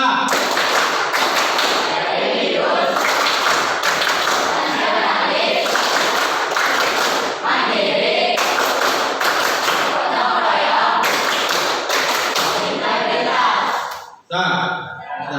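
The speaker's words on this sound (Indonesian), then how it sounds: "Oke, kita kasih plus dengan tepuk PPK ya." A classroom of pupils performs a rhythmic clapping chant, with repeated bursts of claps and voices filling about fourteen seconds before stopping abruptly.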